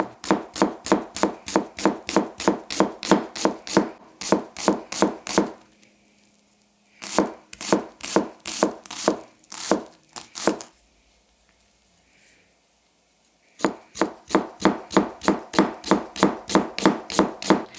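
A WynterForge Wolfram Ko Bunka knife chops through a shallot on a board in quick, steady rhythmic strokes, with two pauses between three bursts of close, crisp cutting.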